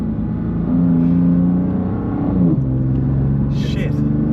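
A Mazda RX-7 engine pulls hard with a loud, steady rotary drone that climbs and then drops in pitch midway, close up with a continuous rumble underneath.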